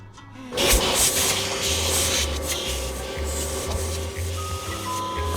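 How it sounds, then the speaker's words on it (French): A steady motor drone hums continuously with a low pulsing rumble and hissy broadband noise, like a vacuum cleaner running nearby throughout. "J'ai cru entendre un bruit d'aspirateur"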